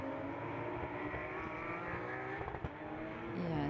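Porsche Carrera Cup race cars at the Barcelona circuit roar past in a pack, a loud sustained engine blare with shifting pitch as several cars battle through a section.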